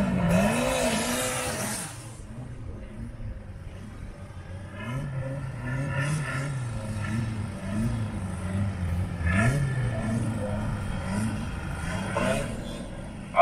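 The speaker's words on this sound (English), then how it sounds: "Waiting for Donovan to do his warm up there." A drag racing car, an old-school Ford at a drag strip, idles and revs with a rough, pulsing engine note at moderate distance during its warm-up, rising and falling in bursts.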